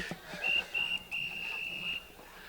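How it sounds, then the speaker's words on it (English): A referee's whistle blows three tweets for full time at a women's Australian rules football match between NY Lady Magpies and Boston Lady Demons: two short shrill blasts and a longer final one, heard at a distance over outdoor crowd ambience. "we've got the whistle for full time, or... Yep, there we go. 3 tweets, full time."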